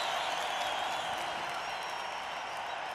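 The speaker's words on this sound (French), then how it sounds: "Je voudrais vraiment qu'on les applaudisse très fort, beaucoup plus fort que ça" Concert audience applauding Moroccan musicians at a show, a dense, even wash of clapping from a large crowd, steady and fairly distant throughout.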